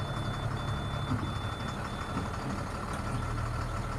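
A 2005 Altec AA600L truck's engine idles steadily at a moderate distance while a reversing alarm beeps repeatedly over it, and no one speaks.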